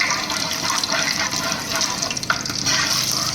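Cloves, curry leaves and whole cumin tempering in hot groundnut oil, a loud, dense crackling sizzle that holds steady throughout, close up with no talking.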